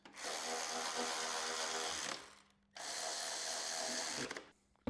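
Rear bolts of a Kenwood STZ-RF200WD dual camera mount tightened on a 2023.5-or-later Harley-Davidson motorcycle: two sustained, gritty whirring bursts of a power driver, each a couple of seconds long and close, separated by a brief pause.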